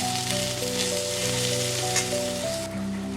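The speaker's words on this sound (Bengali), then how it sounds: "এবারে ভালো করে আমি কষিয়ে নেব।" Ground spices, coriander powder, kasuri methi and rajma masala fry in a pan, producing a continuous close crackling sizzle with a faint steady hum underneath and no talking.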